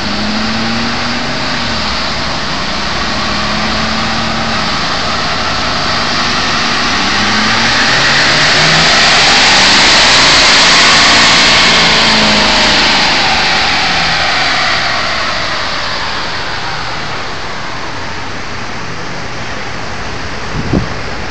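A stock 2011 Ford F250 6.7 Powerstroke diesel truck running on a dyno, a loud, continuous engine roar that rises steadily to a peak around the middle, then eases back down, with no talking.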